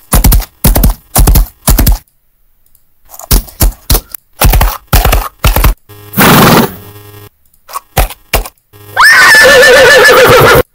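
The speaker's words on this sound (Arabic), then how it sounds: "هذا صوت حصان" A horse neighing sound effect plays as a loud, close whinny near the end, preceded by clusters of sharp clicking bursts and brief gaps of silence.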